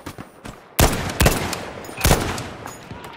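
Gunfire in Battlefield 5, a few sharp, loud close shots with short bursts and echoing tails, separated by quieter gaps of distant popping.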